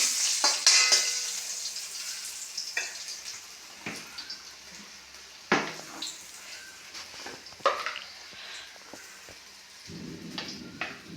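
Curry leaves frying in a hot pan give a steady sizzle with crackles and occasional stirring scrapes, fairly close and with no talking, before a low rumble comes in near the end.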